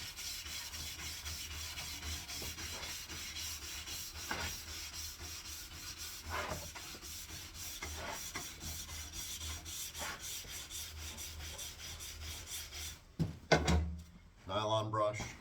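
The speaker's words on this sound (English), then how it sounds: "Brass or copper brush." A brass or copper brush is worked along the base of a waxed cross-country ski, giving a steady close scrubbing rasp in repeated strokes, with a few louder bumps and handling knocks near the end.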